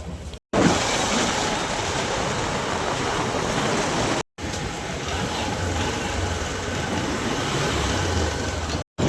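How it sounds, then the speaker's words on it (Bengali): A passing train makes a loud, steady rumble and rattle that fills the whole stretch, broken only by two brief dropouts, with no voices heard. "খুব সুন্দর ট্রেন যাইতেছে,"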